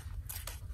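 A pair of quick, close scissor snips cuts through paper for a collaged envelope, two short crisp bursts over a low background hum.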